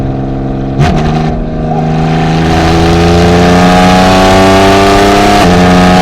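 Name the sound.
2023 Porsche Cayman GT4 RS Weissach engine accelerating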